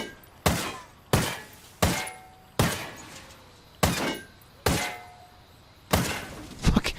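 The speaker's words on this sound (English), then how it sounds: "I'll shoot this one up here in the grill because I got a better shot at it" Semi-automatic sniper rifle shots striking a convoy vehicle's grill in Ghost Recon Wildlands, seven or eight sharp metallic impacts spaced about a second apart, each decaying quickly, loud and close with no talking.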